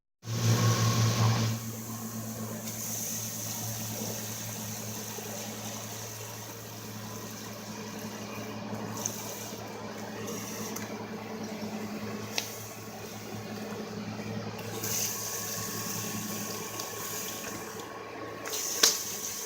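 Cold water hitting red-hot forged metal during quenching gives a sudden loud burst of sizzling steam, which settles into a long, steady hiss that carries on for many seconds, heard close up.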